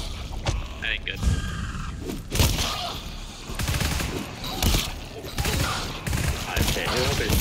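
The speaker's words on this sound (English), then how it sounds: "Someone opened fire." Gunfire in the co-op shooter game GTFO: bursts of rapid shots crackle in an irregular rhythm over several seconds, fairly close and loud, mixed with other game noise and background clatter.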